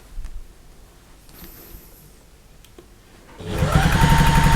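A sewing machine stitching fabric for a shoe carrier starts up after a few quiet seconds of faint handling, then runs loud and steady with a fast mechanical whir.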